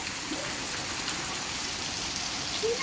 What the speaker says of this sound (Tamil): அப்படியே மழை உறுதியாக பிடிக்குது